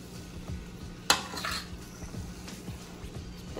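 Bami noodles with chicken being stirred and tossed in a pan on a home kitchen stove, with a sharp clink of utensil on metal near the start, then soft scraping and faint sizzling throughout.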